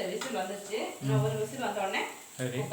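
Oil sizzles in a kadai while cumin rice is being prepared, a soft steady frying hiss sitting under a woman's close, continuous talking.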